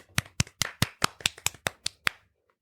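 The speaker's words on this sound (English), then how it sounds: "We need a round of applause." About ten sharp, evenly spaced claps, crisp and close like a single pair of hands or a small group, stopping abruptly and leaving near silence.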